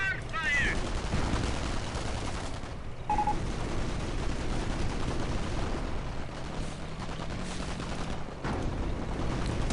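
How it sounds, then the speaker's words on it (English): Steady crackling World War II strategy game battle gunfire aimed at a .50 cal half-track, with rapid shots and machine-gun bursts over a low rumble, with faint talk in places. "There he goes, there's a shot on the 50 cal half track there"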